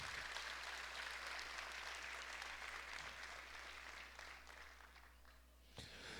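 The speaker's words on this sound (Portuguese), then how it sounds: "Quem pode dar uma salva de palmas para o Senhor Jesus?" A church congregation applauds for Jesus, a steady wash of many hands clapping that carries on for the whole stretch, fading slightly toward the end under a low hum.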